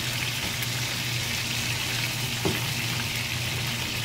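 Potatoes fry in hot oil with a steady, even sizzle and faint crackles, one brief louder pop standing out near the middle.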